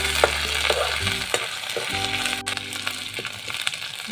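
Whole cumin seeds, green chillies and ginger paste fry in hot oil with a loud, close sizzle, broken by scraping stirs and small crackles, under a low steady hum.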